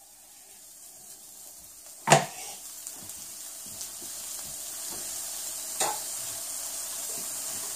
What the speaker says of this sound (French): on va pouvoir ajouter nos tomates